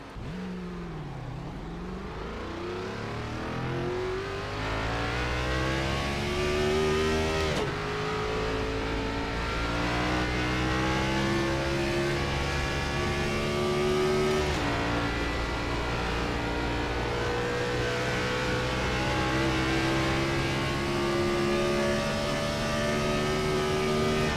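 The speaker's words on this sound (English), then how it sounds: "Just listen to this car." An ARCA race car engine in the iRacing video game roars loudly and continuously, revving up through gears with sharp shift breaks every few seconds, climbing in pitch with no talk over it.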